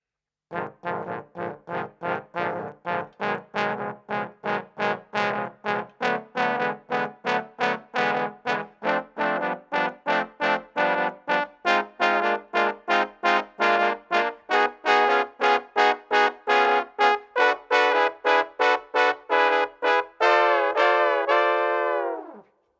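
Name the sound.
trombone playing minor 7 chord, first inversion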